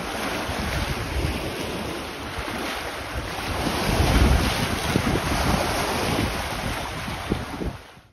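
Strong gusting wind roars across the microphone aboard a small engineless sailboat over the rush of water and waves, loud and continuous with no talking.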